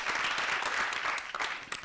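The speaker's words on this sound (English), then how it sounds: "Hey, we clap for them." Children at a national children's assembly meeting in Kenya clap together in a steady, dense round of applause, moderately loud and without speech.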